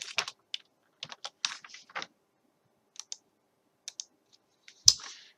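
Typing on a computer keyboard in short bursts of quick key clicks separated by pauses, close and fairly quiet, with a single louder tap near the end.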